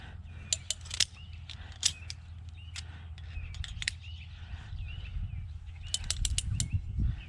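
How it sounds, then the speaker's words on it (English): Ratchet cranked to tighten a trellis line outdoors, giving scattered, irregular clicks over a low background rumble while birds chirp nearby. "when you start cranking on this ratchet, just make sure your line's going back and forth"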